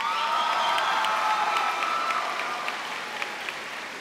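A crowd at a high school senior convocation applauds and cheers for the band, with loud sustained clapping and scattered shouts that fade slightly toward the end.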